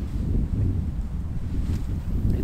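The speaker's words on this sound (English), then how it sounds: "It's a lot colder today. Not by temperature, but because of the wind." Cold autumn wind buffets the microphone outdoors at a solo camping spot near water, a steady low rumbling roar with no talk.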